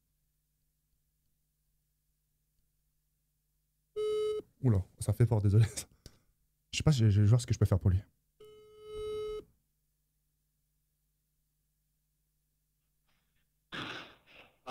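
A phone ringback tone sounds in a GTA RP role-play game: separate electronic tone bursts between stretches of silence, with someone talking in between.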